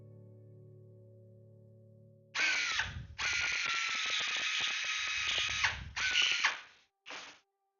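A drill countersinks rivet holes in an aircraft's aft fuselage sides. Close, loud whirring bursts start after a low hum and are broken by short pauses, ending in a final brief spin.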